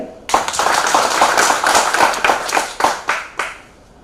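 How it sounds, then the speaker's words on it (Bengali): An audience claps together at an anniversary celebration to honour a writer: dense, steady applause with sharp hand-slap bursts that swells, then thins out and fades near the end. "তাকে উৎসাহিত ও সম্মানিত করবার জন্য একটি করতালি চাই"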